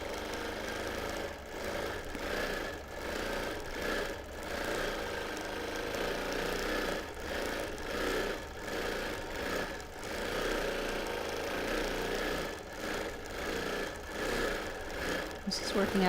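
A sewing machine does free-motion edge-to-edge quilting, its steady stitching hum running through the whole stretch with slight pulses, close and moderately loud, under intermittent talk.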